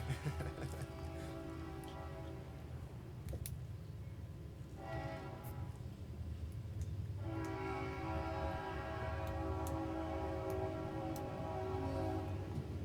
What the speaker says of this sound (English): Historical train. Right down the historical track.